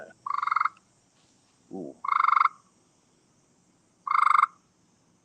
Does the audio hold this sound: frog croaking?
yes